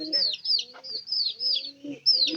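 Several small chicken chicks peep in thin, high chirps running nearly continuously close by, with a hen's low clucks and soft sounds underneath.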